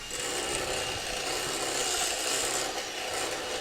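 Electric whisk beating eclair batter in a bowl: a steady, dense whirring and scraping texture that runs without pause, with no talking.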